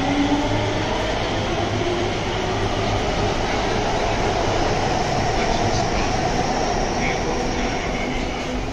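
A metro train rumbles loudly and steadily nearby at a station with a dense roar and faint squeals, while a crowd murmurs in the background.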